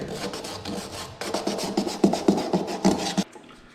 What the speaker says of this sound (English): I like to take a little sandpaper and roughen up this edge here.